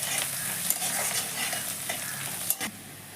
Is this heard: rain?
no